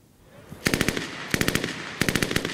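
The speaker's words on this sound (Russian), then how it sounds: "Всероссийский фестиваль авторской песни начался с выстрелов." Bursts of rapid automatic gunfire from a military-patriotic club's battle reenactment at an open-air song festival: three quick volleys of sharp cracks, loud and fairly close, separated by short pauses.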